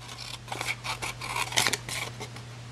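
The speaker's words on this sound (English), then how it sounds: "I'm going to turn it around, and I'm going to cut it again." Scissors snip through a paper basket template along scored lines, a run of crisp close cuts in quick uneven rhythm, heard alone.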